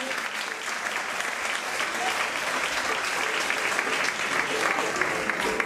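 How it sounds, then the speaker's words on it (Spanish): Sustained applause from a concert audience for soloists at an evening of malagueñas, a dense, even clapping crowd heard from the hall, steady for several seconds with occasional louder individual claps. "Un aplauso para todos estos solistas"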